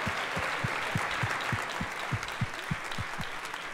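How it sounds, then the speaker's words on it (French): An audience at a live French debating contest applauds steadily for several seconds, with dense clapping over regular low thuds. "Vous pouvez les applaudir, ils ont été merveilleux."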